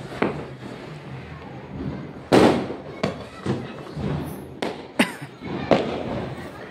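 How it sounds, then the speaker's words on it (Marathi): Diwali firecrackers bursting outside a home during festival night, a string of sharp loud bangs and cracks at irregular intervals over a steady crackling background of distant fireworks. "आणि बाहेर खूप सारा फटाक्यांचा आवाज चालू आहे, बघू शकतो आपण।"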